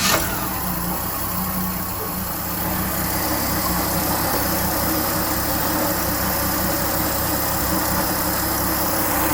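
A six-cylinder Camaro engine idles steadily after an oil filter was tightened, a close, even rumble holding the same level throughout with no voices.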